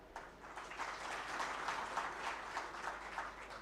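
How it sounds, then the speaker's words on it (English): A career fair audience in Uganda gives a round of applause to the MasterCard Foundation and Brighter Monday Uganda, a brief, moderately faint patter of clapping with irregular bursts and no speech. "I request that we give a round of applause to MasterCard Foundation and"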